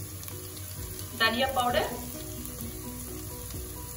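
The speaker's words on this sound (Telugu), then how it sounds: "అల్లం వెల్లుల్లి పేస్ట్ అది ఫ్రై అవుతున్నప్పుడే కొంచెం" Ginger garlic paste frying in a pot for coconut rice, a steady soft sizzle with a brief louder burst of stirring, while someone speaks briefly over it.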